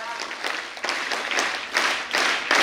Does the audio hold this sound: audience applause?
yes